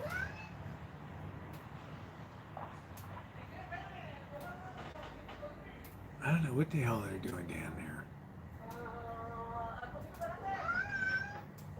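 Cats meow amid steady indoor chatter, with a louder cluster of cries in the middle and a harmonic meow near the end, all under people talking.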